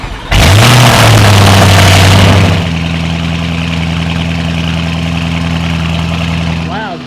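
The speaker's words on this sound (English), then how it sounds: "Ready for a first startup." A tuned Lamborghini Urus V8 with downpipes and a transmission tune cranks and fires up loudly, flares briefly, then settles into a steady rumbling idle, with a quick blip near the end.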